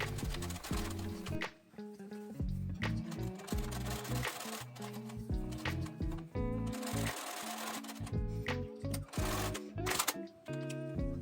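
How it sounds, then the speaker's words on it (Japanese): A home sewing machine runs steadily close by, stitching down the seam allowance of a sleeve cuff on a French-sleeve garment, with a rapid mechanical clatter that pauses briefly and then starts again. "袖口の縫い代にはステッチをかけて固定しておきます"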